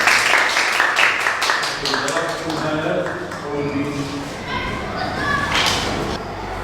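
An audience in a lecture hall claps in a burst of sharp claps that fades out, followed by a voice speaking over a hum.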